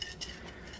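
A spoon clinks and scrapes softly against a bowl while stirring a sugar and yeast mixture, a couple of light metallic taps followed by quiet swirling.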